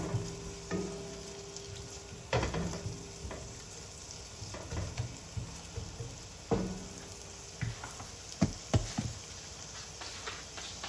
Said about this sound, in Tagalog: iba-brown lang po natin ng konti ang garlic natin